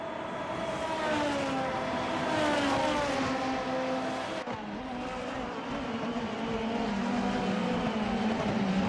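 Race cars lapping the Autopolis circuit in the Formula Hololive racing video game, a steady, loud high-pitched engine drone whose pitch rises and falls as the cars accelerate and shift gears, with no talking.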